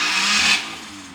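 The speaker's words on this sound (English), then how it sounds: "Oh, Rover Metro!" A Rover Metro car drives past close by, its small engine rising to a brief loud rush and then fading away within about a second.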